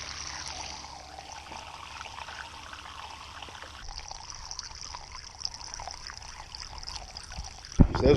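Water pours out of a small boat's hull beside a lake, a steady outdoor splashing trickle under constant hiss, ending with a brief louder knock.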